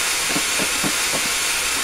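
An LMS Class 8F steam locomotive in Train Simulator 2016 chuffs in a steady, even exhaust rhythm over a constant loud hiss of steam, close and alone.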